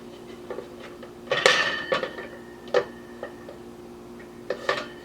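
A cake pan is flipped over onto a wood serving tray, producing several close, sharp metallic knocks and clatters in irregular bursts, with quieter taps between them.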